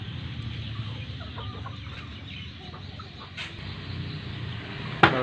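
A black brugo chicken clucks softly in a series of low, close calls over a quiet farmyard background, with a sharp brief noise near the end.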